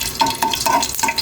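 Garlic frying in cooking oil for an onion and egg dish, with a brief close sizzle broken by quick stirring scrapes and light clinks of a utensil against the pan.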